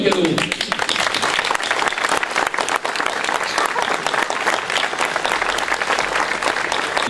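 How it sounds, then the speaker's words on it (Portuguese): An audience at a book launch gives a hearty round of applause, dense continuous clapping close by that carries on steadily without pause. "desafio-vos a darem uma valente salva de palmas"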